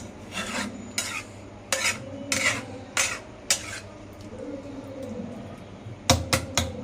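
A ladle stirs and scrapes through a home-cooked Tamil curry in a pot, making a series of close rasping, clinking strokes in irregular bursts, with a quick flurry of scrapes near the end.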